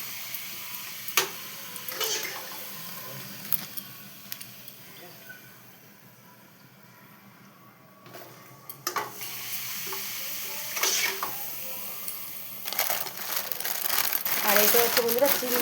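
Papad, including prawn crackers, fries in hot oil in a pan with continuous crackling sizzle, bursts of crisp popping and stirring scrapes, while a person talks over the cooking.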